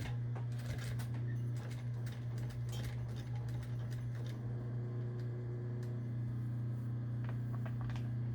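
A sewing machine runs steadily, stitching a fabric necklace back and forth across the same spot with a pivot in between. A constant, close mechanical hum continues with no talking.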